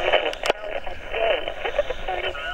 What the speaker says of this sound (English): Sure sounds like an AM station coming across there.